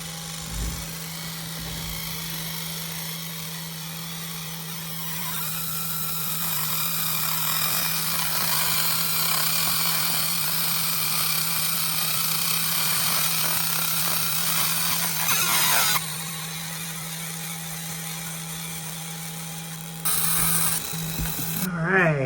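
ComMarker laser engraver marking an anodized aluminum business card, producing a steady high electronic whine and hum with a constant low drone, swelling slightly mid-run and cutting off briefly near the end.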